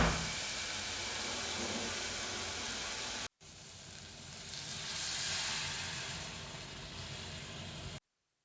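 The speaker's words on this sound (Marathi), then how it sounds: "त्याच्यामध्ये राईस टाकून त्याला फोडणी वगैरे देते" Rice tempered in leftover strained chicken curry masala, giving a steady, fairly quiet sizzling hiss that cuts out briefly partway, then resumes and stops abruptly.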